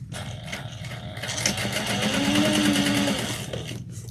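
Sewing machine backstitching a fabric tote bag, a steady close mechanical whirr that runs continuously and swells slightly in the middle before easing off, with no voices.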